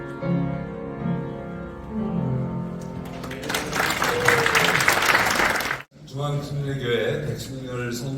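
Applause after a hymn at a Christian prayer breakfast in a National Assembly meeting room, a broad steady clatter of clapping that swells and then cuts off briefly before resuming, with a voice carrying over it.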